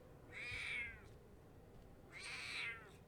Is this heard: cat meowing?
yes